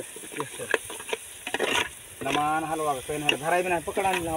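Mutton curry sizzles in a pot at an outdoor party beside a borewell, with intermittent stirring scrapes; a voice talks loudly over the second half.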